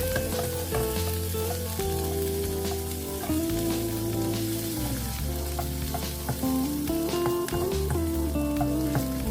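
Shrimp with garlic stir-frying in a hot pan for a Thai mixed-vegetable dish, a steady loud sizzle with stirring scrapes throughout and no talking.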